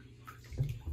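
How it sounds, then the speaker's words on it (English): A small child splashes water in a bathtub, with a brief burst of sloshing and gurgling close by, soft and short. "You splashing?"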